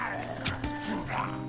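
A dog in the survival video game The Forest gives a couple of short, sharp barks over a constant humming game soundscape.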